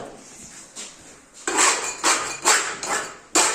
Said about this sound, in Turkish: Tümsekler varsa, fazla sıva varsa onlar spatula yardımıyla kazınmalıdır